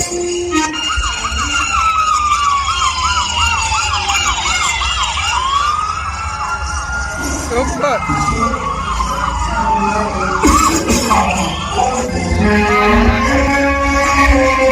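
Ambulance siren wailing continuously and loudly at close range, its rising and falling tone sweeping steadily throughout, with no talk over it.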